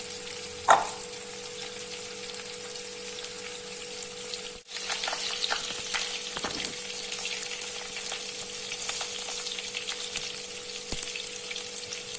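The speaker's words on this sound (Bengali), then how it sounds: "তেল গরম হয়ে এলে একে একে মেখে রাখা ভেন্ডিগুলো কড়াইয়ের মধ্যে ছেড়ে দিচ্ছি" Spiced okra fries in hot oil in a wok with a steady, bright sizzle throughout, broken by a few soft clatters and one brief dip in the middle.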